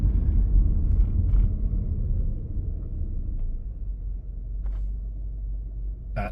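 A car engine idles steadily at low pitch, a constant rumble throughout with a few faint clicks, no voices.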